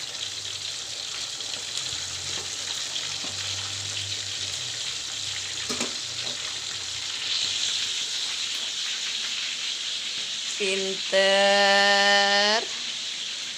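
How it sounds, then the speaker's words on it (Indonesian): Eggs and fish frying in a pan, a steady soft sizzle and hiss in a home kitchen, with a few clinks, a voice and an adult speaking briefly. "Sama goreng telur."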